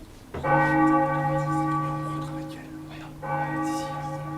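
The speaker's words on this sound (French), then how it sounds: "N'est-ce pas Théo, que c'est beau toutes ces cloches qui sonnent pour toi?" Church bells toll as a funeral knell, two deep, resonant strikes, each ringing out with a long, slowly fading hum.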